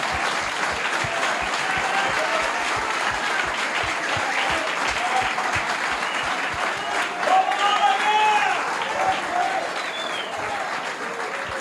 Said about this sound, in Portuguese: Vamos dar um aplauso por essa palavra.